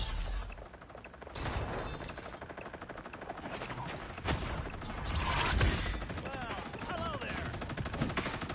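Automatic weapon fire in the video game Marvel Rivals, a dense, steady rattle of rapid shots running throughout with other game effects layered over it.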